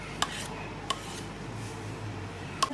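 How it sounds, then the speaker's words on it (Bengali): A pot of homemade handwash set on a kitchen stove, giving three sharp metallic clinks spaced apart over a steady low background hum. "এটাকে চুলায় বসিয়ে দিয়েছি,"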